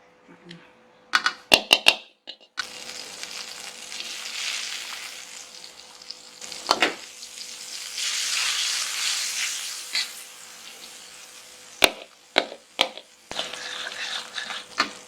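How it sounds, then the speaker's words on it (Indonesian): A soft hiss swells and fades as margarine heats in a pan, interrupted by sharp clacks and taps of a utensil against cookware. "Kita panasin dulu margarinnya."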